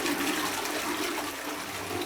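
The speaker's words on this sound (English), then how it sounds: "you just flush the toilet" Toilet being flushed after plunging a blockage, a loud continuous rushing gush of water filling the whole clip at close range.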